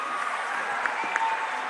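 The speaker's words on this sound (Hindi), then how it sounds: "एक बार जोरदार तालियां प्लीज।" Brief applause from an audience at a live interview event, a steady muffled wash of clapping at moderate distance with a couple of sharper claps standing out.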